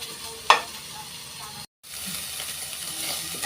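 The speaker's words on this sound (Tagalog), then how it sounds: "Bago natin igigisa yung mushroom." Mushrooms sautéing in pork fat sizzle with a steady hiss, broken by a sharp stirring clatter early on and a brief cutout near the middle.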